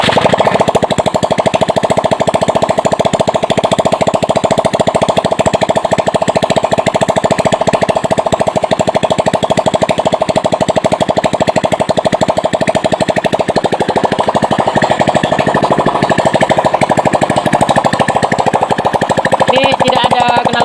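A Honda Vario 110 carburetor scooter engine runs with no exhaust fitted, giving a loud, harsh, rapid mechanical clatter that stays steady throughout and grows slightly rougher in the later part.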